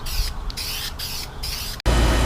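Bursts of aerosol filler primer sprayed onto a 1973 Scout II front grill stripped to bare metal, a steady close hiss in several passes with brief pauses, ending in a louder rustling handling noise.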